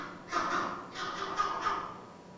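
An East African vervet monkey (Chlorocebus pygerythrus) gives a leopard alarm call: a run of raspy, caw-like barks, a first one and then three quicker ones in a row, fairly close and alone.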